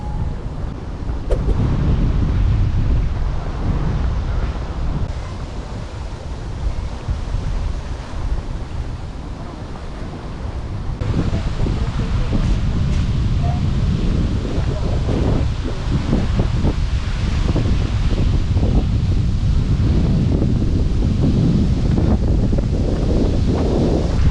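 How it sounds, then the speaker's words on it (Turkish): Strong breeze blowing across a lakeside park in Kiev on a hot day, a steady loud rush of wind buffeting the microphone with rustling leaves, continuous throughout with gusts swelling and easing. "muazzam bir esinti var."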